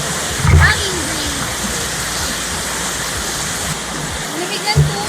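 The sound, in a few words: waterfall at a dam in Dasol, Pangasinan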